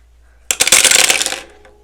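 A handful of dice tumble onto a hard surface, including a four-sided die, in one loud, bright rattling clatter that starts abruptly and settles within about a second, with no voices.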